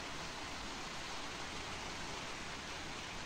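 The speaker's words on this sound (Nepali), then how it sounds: "पानी पर्नु थाले" Steady rain falling, a dense, even hiss with no breaks or separate drops standing out, lasting throughout with no voices.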